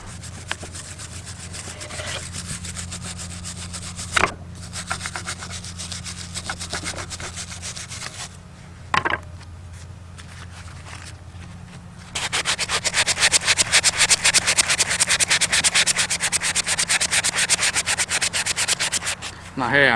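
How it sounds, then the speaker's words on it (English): A wire brush scrubs grime from a vintage Duff Norton 5-ton jack in close, rhythmic rasping strokes, with a few sharp knocks, and grows busier and louder in the final stretch. "basically just crack on with the wire brush and see what we can find under all this"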